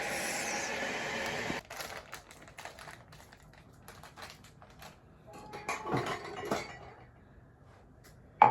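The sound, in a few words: clinking cup and spoon while mixing milk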